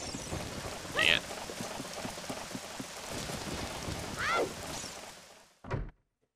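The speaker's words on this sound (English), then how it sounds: "From the sky to the ground, rain is falling on the ground." Steady rain falls in a video game (Mario 64 x Ocarina of Time randomizer), a continuous hiss of drops with two brief game chirps over it, fading out near the end before a short final blip.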